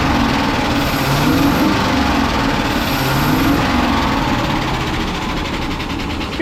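An old 1964 Ford N600 flatbed truck, left sitting for years, runs with a steady, dense engine drone that stays constant and loud throughout, with no voices.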